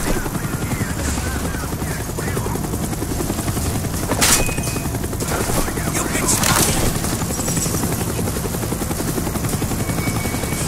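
Steady rotor drone of a helicopter in the video game Call of Duty: Black Ops, with a couple of brief bursts of gunfire or impacts layered over the continuous engine noise.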